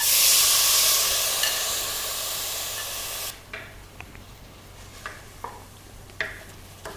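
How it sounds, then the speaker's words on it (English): Rice and moong dal mixture hitting hot ghee in a pan, a loud bright sizzle at first that gradually settles, followed by scattered scraping and stirring clicks. "We'll add just a teaspoon or 2 of ghee and add the rice dal mixture."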